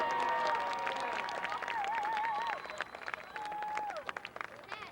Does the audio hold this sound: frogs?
no